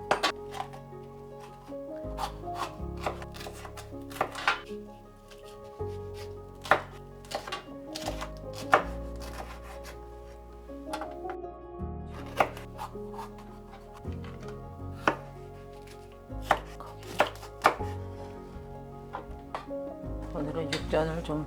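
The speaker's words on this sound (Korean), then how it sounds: "야채 한번 썰어 볼게." A knife chops vegetables for Korean pa-ganghoe on a cutting board, with a run of crisp, uneven thwacks and quick bursts of cuts close by, and a person talking in between.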